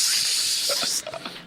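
Aerosol spray can hissing steadily as hair dye is sprayed onto a bald head, a loud continuous spray for about a second that cuts off abruptly, followed by brief faint voices.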